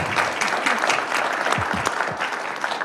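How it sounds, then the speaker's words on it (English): An audience at a commission meeting gives a sustained round of applause. The dense clapping is steady and fills the whole clip, with a few faint voices underneath. "please give her a round of applause"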